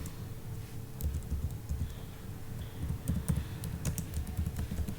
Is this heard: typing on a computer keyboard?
yes